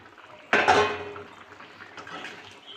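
Fried eggs dropped into a pot of boiling water with cooked potatoes, a sharp metal clatter of utensils against the pot followed by a quieter scrape and faint bubbling, close by with no talk.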